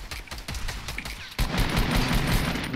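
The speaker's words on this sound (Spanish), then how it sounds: "Son tiros." Automatic gunfire in the video game Fortnite rattles off in quick bursts, then becomes a dense, loud, continuous volley after the first second.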